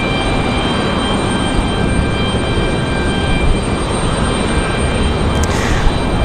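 A SkyWest airliner passes at Raleigh-Durham International Airport, a steady, loud, broadband jet roar that holds evenly throughout with no talk.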